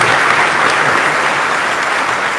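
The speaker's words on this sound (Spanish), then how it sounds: "aplausos, gracias, hermano" A church congregation bursts into steady applause, dense clapping from many hands that stays loud and even throughout with no voices on top.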